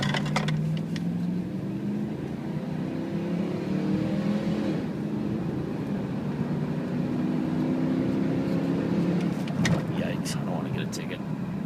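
A 2005 Dodge Ram 4x4 pickup with a Hemi engine pulls steadily on a test drive, its engine note rising and falling through gear changes, heard from inside the cab under a continuous road and wind rumble.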